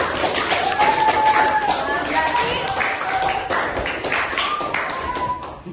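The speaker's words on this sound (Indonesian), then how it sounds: "Yuk kita tepuk tangan untuk kita semua ya" A class of students clapping hands together in a classroom, brisk mixed clapping with a clear voice speaking over it and other young voices joining in.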